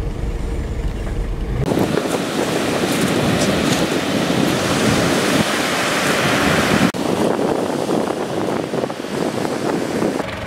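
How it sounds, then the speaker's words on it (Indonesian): Surf roars continuously at a beach near Atambua, Indonesia, with broad wash and wind buffeting the microphone, loud and close throughout. "Jadi kita ketemu sebuah pantai di sini dan pantai ini unik gitu ya"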